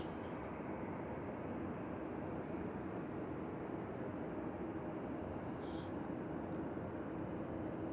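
Ryanair airliner holding short of the runway at an airport, its jet engines giving a steady distant broadband roar, with faint talk underneath.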